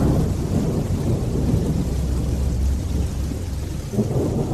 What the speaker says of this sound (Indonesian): Hujan gerimis mulai turun.